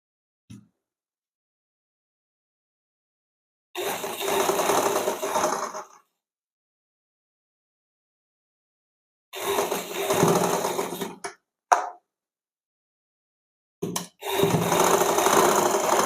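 A sewing machine stitching a strip onto the front of a blouse, running in three separate bursts of steady mechanical whirring a couple of seconds long each. Silent pauses fall between the bursts, with a brief click in one of them.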